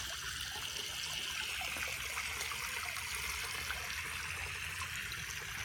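Water trickling and splashing steadily in a garden fish pond running through its filter, a continuous close-up babble with no voices.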